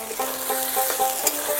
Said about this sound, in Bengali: ভালো করে নেড়ে নেব